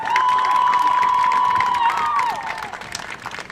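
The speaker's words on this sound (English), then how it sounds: "Big round of applause for all our staff members," Audience at a performing arts center event cheering and applauding for staff members, a loud sustained crowd roar with whoops and a long high whistle, fading after about two seconds.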